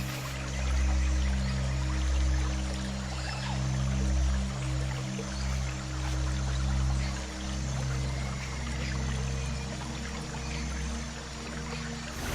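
Cascading river rapids in Arctic tundra country roar steadily, a dense continuous rush of churning water that stays loud and constant throughout, with no voices.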